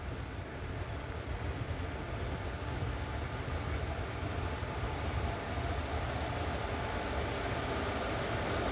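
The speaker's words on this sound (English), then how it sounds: "There's a freighter departing from the other platform." A freight train departs from the opposite platform at Erode Junction, heard from aboard the Kannur Bengaluru Express as a steady, distant rumble of rolling wagons with faint high wheel squeals now and then.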